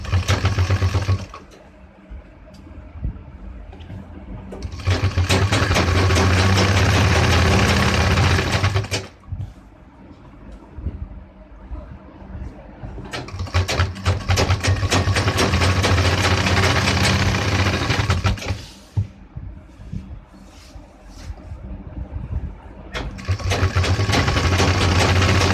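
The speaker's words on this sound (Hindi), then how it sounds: "इस पर हम सिलाई लगा देंगे" A sewing machine stitches a belt onto a pant in three long runs of steady, loud, rapid whirring and clatter, separated by quieter pauses with a low motor hum, close by.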